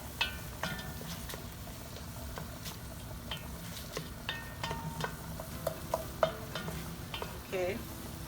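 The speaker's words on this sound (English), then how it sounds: "Just gonna cook the tomatoes a little bit" Chopped tomatoes sizzle and fry in a pan for a vegan rasta pasta sauce, a steady crackling bed broken by repeated scrapes and taps of a spoon stirring, close and moderately loud with no talking.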